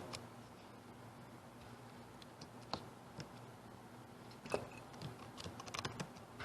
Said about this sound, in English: I'm using a keyboard on my tablet, so it's a little bit faster.